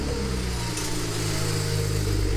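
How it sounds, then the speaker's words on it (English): BMW 335i engine with newly installed downpipes running close by, a loud steady deep exhaust drone with a rough low rumble and slight revving throughout, no voices. "It's time to start the car. The downpipes are fully installed."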